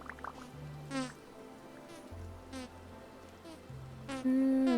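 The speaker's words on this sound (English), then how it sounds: "It's the song of the bees." Bees buzzing around hives in the video game Vintage Story, several overlapping buzzes that swell and fade in short passes, near and fairly quiet, over a low steady drone.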